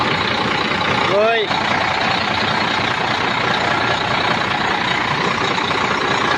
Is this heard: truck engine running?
yes